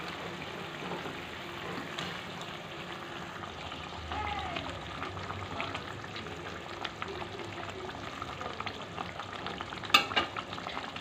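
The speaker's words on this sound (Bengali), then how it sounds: "ঝোলটা ফুটে গেছে" Prawn malaikari gravy in a pan bubbles and sizzles steadily at close range, with faint clinks of a utensil and a brief knock near the end.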